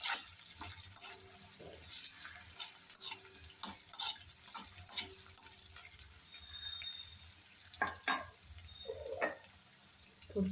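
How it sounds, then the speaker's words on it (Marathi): Diced potatoes fry in hot oil in a kadai with a steady soft sizzle, broken by scattered clinks and scrapes of stirring close by. "थोडेसे फ्राय करून घ्यायचे तेलात."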